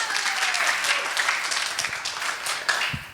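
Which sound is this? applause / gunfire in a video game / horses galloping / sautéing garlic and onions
applause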